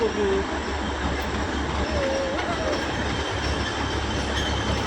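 A Vande Bharat express train rushes past close by with a steady loud rumble and roar of wheels on rails, and a faint squeal rising briefly.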